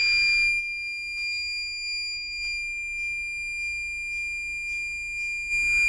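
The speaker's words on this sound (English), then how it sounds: "maybe I have to turn on the BMS, but it will beep" A battery management system sounds a series of short, evenly spaced electronic beeps, a high steady tone pulsing about twice a second in an otherwise quiet room.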